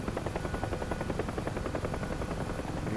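Mi-24 Hind helicopter spooling up in the DCS flight simulator: a steady, loud, rhythmic rotor chop with turbine hiss, continuous and alone without speech.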